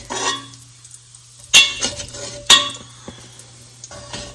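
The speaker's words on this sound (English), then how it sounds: "So remove all this from the pot." Crisp bacon is scooped out of a metal pot for loaded potato soup, with two sharp utensil scrapes and clinks against the pot over a faint background hum, plus a few lighter taps.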